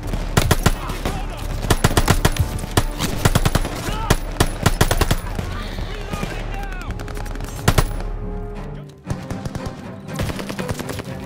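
Rapid machine gun fire in a Call of Duty: Vanguard battle, loud and dense bursts with scattered shots and explosive clutter, nearly continuous for about nine seconds before dropping to quieter rumble.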